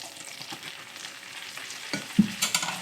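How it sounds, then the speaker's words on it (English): Flour being stirred into melted butter in a pan for a roux, a soft low sizzle with scraping stirs and a few sharper clinks near the end. "I'm just going to stir this into."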